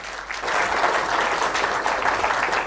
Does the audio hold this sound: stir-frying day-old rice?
no